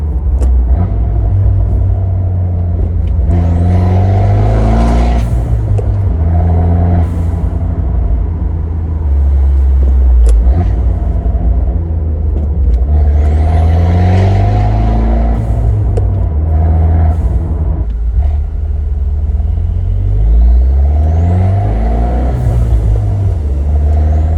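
A turbocharged Fiat 124 Spider Abarth engine rumbles and revs continuously, rising and falling with acceleration, blow-off valve and exhaust tone prominent and close throughout.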